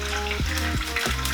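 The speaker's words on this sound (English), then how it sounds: "We're going to put it into a frying pan" Saved ramen fat hits a hot frying pan and crackles with a loud, steady, close-up sizzle, broken by a few short scraping or stirring movements.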